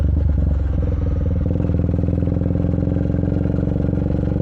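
A Triumph Speed 400 motorcycle being ridden and turning around, its engine putting out a loud, steady, close-up throbbing chug with a rapid pulsing beat throughout.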